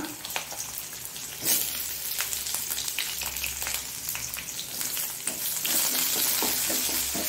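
Onion with green chilli fries in oil in a pan for brinjal saaru, a close, continuous crackling sizzle with occasional stirring clinks and no voices.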